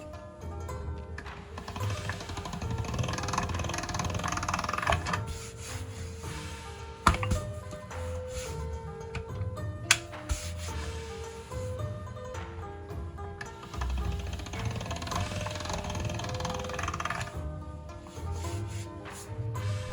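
A hand-cranked pasta machine rolls homemade ramen dough dusted with rice flour, a steady low rumbling rub in long passes with a few sharp clicks between them, close and unaccompanied by speech.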